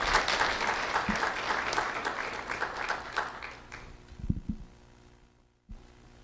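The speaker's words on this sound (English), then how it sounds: "Let's have a round of applause for Nafis Ahmed." Audience applause for an elementary school award winner at a Do The Right Thing ceremony, a dense steady clapping that fades out toward the end, with a few brief thumps near the close.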